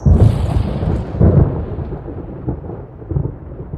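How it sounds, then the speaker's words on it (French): Thunder booms and rolls in a mountain-top storm with lightning strikes, loud low crashes at the start and again after a second, fading into a rumbling, rain-like wash with no voices. "Le sommet de la montagne se mit à trembler sous les coups des éclairs qui tombaient du ciel."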